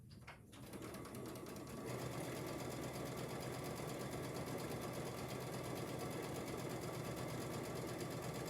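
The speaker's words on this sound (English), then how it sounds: "I'm going to sew those together, then I'll just keep sewing all my pieces" A sewing machine stitching quilt pieces together in a steady, fast, continuous whirr with rapid needle chatter, close and fairly quiet, starting after a short pause.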